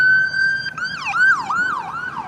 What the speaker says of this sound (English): Somebody's not in a good way in an ambulance.